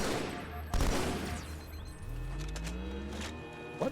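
A grenade goes off in the video game Halo 2, one sharp loud blast followed by fainter rising and falling in-game effects and distant pops, with no voice heard.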